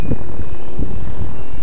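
A Rave 90 RC helicopter flies at low headspeed, giving a loud, steady droning whir with soft, rhythmic low thumps from the rotor and some microphone wind rumble, heard alone without speech.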